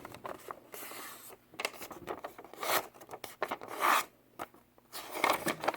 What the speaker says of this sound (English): we're going to make a fold in the middle